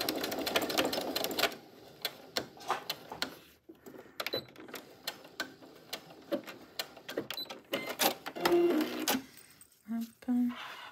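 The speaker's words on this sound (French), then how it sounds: "Un petit point de couture." A sewing machine stitches a wallet in short, clattering bursts with pauses between them. The sound is close and moderately loud, and a voice is heard briefly near the end.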